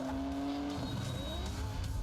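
Arcade-style car burnout in the Cruis'n Blast racing game, a steady engine drone with squealing tires rising and shifting pitch, loud and continuous.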